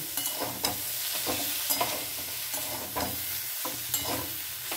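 A broccoli curry seasoned with chilli and coriander powder sizzles in a pan while a spoon stirs and scrapes it in short, uneven strokes, close and continuous, with no voices.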